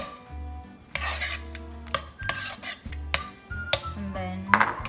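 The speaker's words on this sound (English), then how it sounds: "first we have to add in our roasted garlic into our red sauce together. Give them a good mix." A utensil stirring roasted garlic into red sauce in a pot for a vegetable lasagna: repeated scraping and clinking strokes against the cookware, close and moderately loud, in an uneven rhythm.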